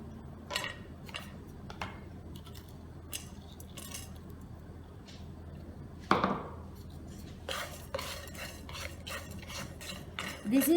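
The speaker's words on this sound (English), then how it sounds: "I'm going to dry roast these ingredients" Spices dry roasting in a pan, stirred with a utensil: faint scraping and light clinking strokes come in bursts, with a denser flurry of scrapes near the end, close by and without talk.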